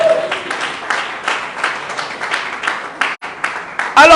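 A church congregation at a French-language seminary bursts into steady applause and cheering, the clapping filling the space with a dense, sustained patter before a brief break and a final swell.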